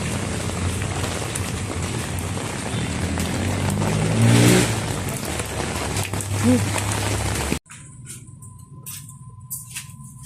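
Heavy rain drums down in a loud, continuous wash, with a passing e-trike engine swelling up through the downpour; the rain cuts off abruptly near the end, leaving a quieter, sparse background.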